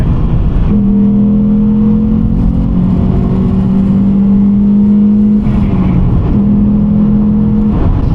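A loud 1.6 car engine held high against the rev limiter, droning steadily with brief drops and returns, close and continuous throughout.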